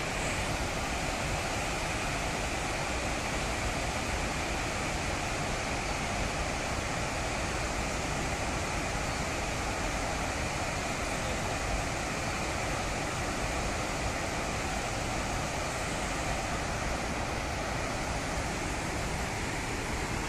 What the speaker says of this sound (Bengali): ওই যে ওয়াটারফলটা দেখা যাচ্ছে,